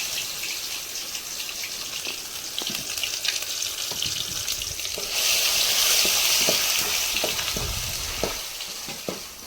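A paste of onion, garlic and roasted coconut sautés in a pan, a dense close sizzle that swells louder midway, broken by intermittent stirring knocks and scrapes, with no speech.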